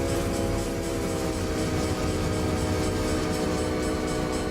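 A freight train in the video game Train Simulator 2017 rumbles along at speed, with a loud, continuous low engine drone, steady rail noise and sustained tonal horn-like layers throughout.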